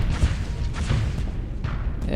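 Weapon fire from a space combat video game involving nukes, heard as booming, thudding blasts under a steady noisy rumble, with a brighter impact burst near the end.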